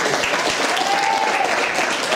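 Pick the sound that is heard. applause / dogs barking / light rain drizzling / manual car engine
applause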